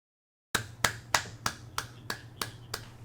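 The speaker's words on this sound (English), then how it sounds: "Slow clap." Eight slow, evenly spaced sharp claps ring out close and alone after a moment of silence, each with a short ringing decay, like a deliberately slow clap.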